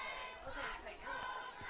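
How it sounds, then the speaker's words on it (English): A Dalhousie Tigers home crowd roars and cheers at a university football game against the UNB Reds just after a touchdown, producing a dense, sustained wash of crowd noise with scattered shouts throughout. "the Dalhousie crowd is going crazy"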